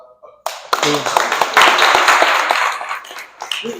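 Audience clapping at a talk session, a dense burst of many hands that rises suddenly after a short quiet moment, stays steady and fairly loud for nearly three seconds, then thins out toward the end.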